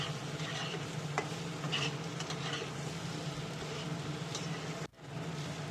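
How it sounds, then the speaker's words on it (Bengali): Boiled potatoes fry in hot oil in a pan, giving a steady, close sizzle with occasional stirring scrapes, continuous throughout with one brief dip near the end. "এবার আমি আলুগুলো ভেজে নেব।"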